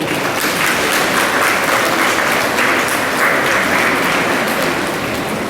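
An audience at a school eco club event at SPKHSS, Alwarkurichi, gives 12th D students a loud, dense round of applause that holds steady throughout.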